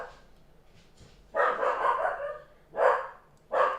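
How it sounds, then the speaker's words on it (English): A dog gives three loud barks close by, the first longer and the next two short, with quiet pauses between them. "I see something I want to bark at. I will bark."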